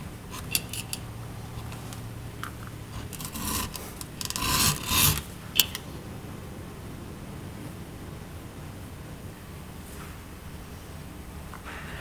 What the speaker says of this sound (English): Now I'm beveling the edges on the retention strap.